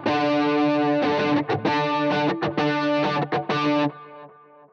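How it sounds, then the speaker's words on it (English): Electric guitar through a Boss CE-1 chorus pedal, strummed in a loud, steady chord pattern with quick choppy stops. The tone is thick and shimmering, and it ends on a sustained ringing chord that fades out. "And then I'll flip in the CE-1 here in a second, and you'll hear it just go,"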